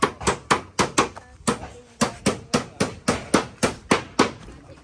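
A hammer strikes nails into a wooden bamboo bridge deck in a quick, steady rhythm, about a dozen sharp ringing blows close by, with brief pauses and a voice faintly in between.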